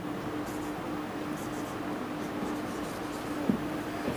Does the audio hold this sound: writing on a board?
yes